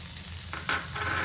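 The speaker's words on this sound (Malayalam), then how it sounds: "അപ്പോൾ അതിൽ നമ്മുടെ ഈ പച്ചമുളകും വെളുത്തുള്ളിയും ഇഞ്ചിയും കൂടെയുള്ള അതൊന്ന് മൂത്ത് കിട്ടണം" Crushed ginger, garlic and green chilli frying in prawn juice in a Kerala-style prawn dish, a steady close sizzle that swells in brief louder bursts as the pan is stirred, with no voices.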